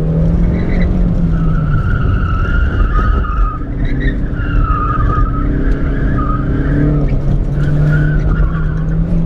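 A car engine roars steadily at high revs on a race track with tires squealing and skidding over it, loud and close throughout.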